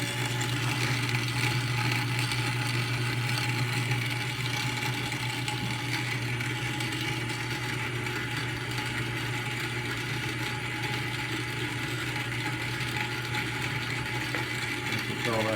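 A Dy-368 grain mill runs steadily with a continuous mechanical grinding hum and a faint ratcheting texture. The mill is misaligned at its drive couplers. The sound is constant and fairly near, with no pauses.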